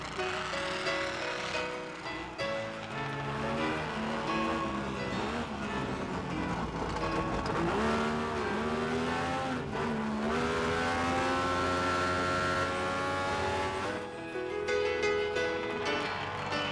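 Vintage Saab race cars at a 50-year Saab anniversary event, engines revving and accelerating hard as they pass, with rising and falling pitch sweeps across a long stretch of continuous motor roar.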